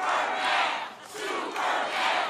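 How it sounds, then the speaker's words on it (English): Crowd cheering and shouting at an outdoor Trump campaign rally, a loud sustained roar that swells in three waves with a brief dip between them. "He grinned as the crowd cheered him as Superman."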